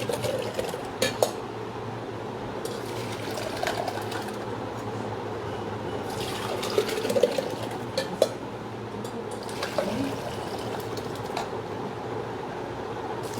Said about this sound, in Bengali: এই জন্য আমি এটাকে নেড়ে নেড়ে ঠান্ডা করছি